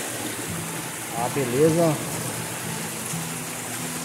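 A waterfall in a river in the Diamantino region gives a steady, close rushing wash, with a person speaking briefly over it.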